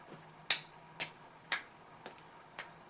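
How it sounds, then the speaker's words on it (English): Hand claps keep time in a jungle dance routine: five crisp, evenly spaced claps about half a second apart, close and clear over a quiet background with no talking. "4 claps."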